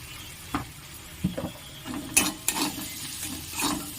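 Spoons scrape and clink in a pan while chili powder and turmeric are stirred into salted mashed potato filling for aloo chop, several short separate scrapes over a faint background, no voices.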